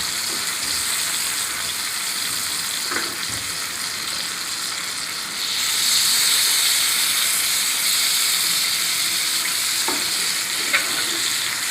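Tomatoes and garlic roast in a pan for chutney, giving a steady close sizzle with occasional spatter pops, rising briefly louder and brighter as the pieces are turned over.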